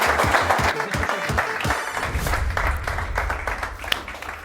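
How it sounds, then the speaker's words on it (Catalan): An audience at a live stage event claps in a burst of applause that is strongest at first, then settles into a steady, slightly thinner round of clapping, fairly close and loud. "Un aplaudiment per ell!"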